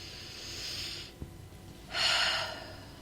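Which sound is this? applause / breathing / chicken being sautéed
breathing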